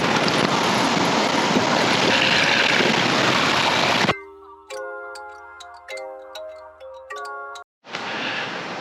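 Water rushes loudly and steadily into the empty sump of a large 150-gallon aquarium. The rush cuts off midway, giving way to a few ringing tonal notes, and then resumes strongly.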